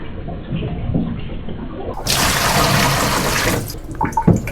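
Water gushes loudly for a second and a half as rinse water is replaced during salt printing, then cuts off into quiet dripping and handling noises.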